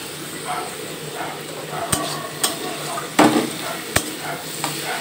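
Water spinach with turmeric being stirred in a pan over high heat, a sizzling base broken by several sharp scrapes and clinks of the spatula against the pan.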